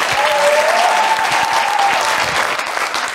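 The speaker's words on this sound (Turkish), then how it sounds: "Alkışlar." Loud, sustained applause from a television quiz show studio audience, dense clapping filling the whole stretch, with a faint high tone briefly audible in the middle.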